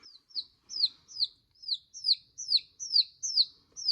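A baby chick in a brooder box cheeping steadily, about ten bright, high descending peeps in an even rhythm, close and clear with nothing else around.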